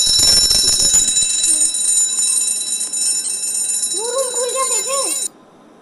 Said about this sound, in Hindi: अलार्म बजा